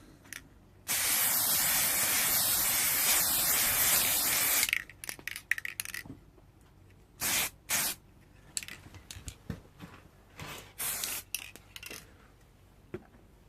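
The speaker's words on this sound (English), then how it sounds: "I'm going to give this a coat of the spray" A long steady hiss of aerosol spray paint for about four seconds, then several shorter spray bursts and faint handling clicks nearby, in a garden shed.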